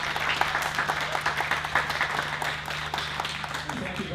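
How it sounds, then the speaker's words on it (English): Audience applause for panelists at the close of a festival discussion on wars, Ukraine and Iran; dense, even clapping from a sizeable crowd fills the room steadily, with faint voices mixed in beneath it. "A big round of applause to our panelists."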